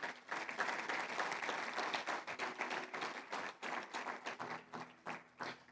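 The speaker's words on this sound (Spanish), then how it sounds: "Dale un aplauso al Señor." A church congregation applauds during a sermon: brisk, distinct claps from a modest gathering, loud at first and then thinning into uneven, separate hand strikes toward the end, with no one speaking.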